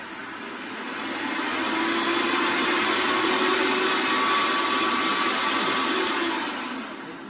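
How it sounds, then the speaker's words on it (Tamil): A kitchen mixer grinder runs steadily while making a spice powder, its loud whirring motor swelling up, holding for several seconds, then easing off, with no talking. "மிக்சிண்ட சுத்தம் தானடா."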